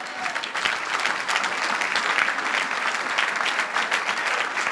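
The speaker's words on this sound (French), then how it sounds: "On acclame Jésus de Nazareth." Church congregation applauding and cheering in acclamation of Jesus during an evening vigil gathering, a steady dense wash of clapping from many people nearby, sustained throughout without pause.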